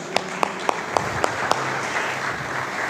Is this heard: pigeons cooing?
no